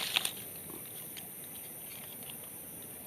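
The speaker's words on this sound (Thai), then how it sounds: "ฝนมาแล้วครับ" Rain patters steadily and softly beside a forest stream during mushroom foraging, a faint continuous hiss with a few small taps near the start and no talk.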